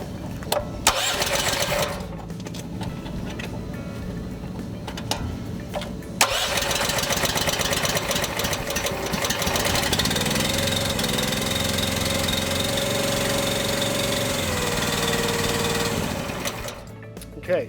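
EZG Grout Hog machine engine starting up: a brief cranking and clatter, then the motor catches and settles into a steady, loud mechanical running drone that continues until it cuts out near the end.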